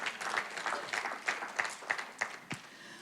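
A church congregation applauding, a fairly faint, loose patter of claps that comes in uneven bursts and thins toward the end.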